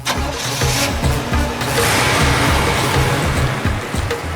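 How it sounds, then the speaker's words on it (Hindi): A car engine turns over and catches, then runs and revs with a low, uneven rumble as the vehicle pulls away on a forest road, fairly loud and close with no talking. "चलो गाड़ी चलाओ।"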